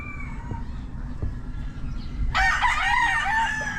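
A white hatch gamefowl rooster crows at a farm, its loud, close call bursting in partway through after a quieter stretch of faint background noise.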